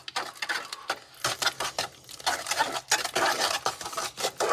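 A spoon or utensil stirs sugar into cheesecake brownie batter in a bowl, with repeated scraping and soft clinks in an uneven rhythm, close and fairly quiet.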